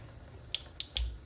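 Warm tap water streams over orchid leaves and a pot, a faint wash of water broken by a few soft splashes and drips.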